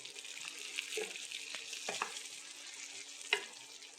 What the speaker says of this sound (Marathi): ह्याच्यातच चार चार हिरव्या मिरच्या भाजूया आणि हे सगळं आधी तळून घेऊया